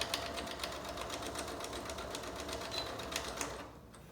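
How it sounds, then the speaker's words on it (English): A sewing machine stitches a handmade fabric mask, running at a steady rapid mechanical patter close by, then slowing and stopping near the end. "So this is the last part I'm going to sew."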